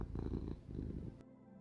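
Loud, rumbling purring from a nearby cat, continuous and pulsing, cutting off abruptly near the end.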